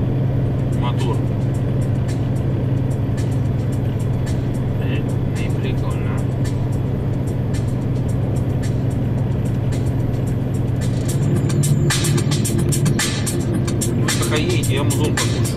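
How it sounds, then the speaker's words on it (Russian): A Scania R500 truck hauling 61 tons on a Swedish road, its engine a steady, heavy low drone heard from inside the cab, with occasional rattles and road noise rising near the end. "Слышите, как шумит мотор?"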